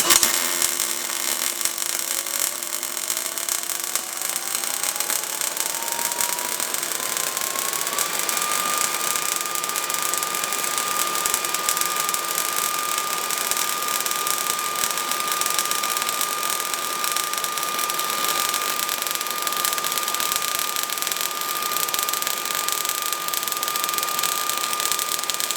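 Vulcan MigMax 215 MIG welder running on an extension cord and welding 1/2-inch steel plate, a steady loud crackling hiss that continues unbroken, with a machine tone that rises early on and then holds.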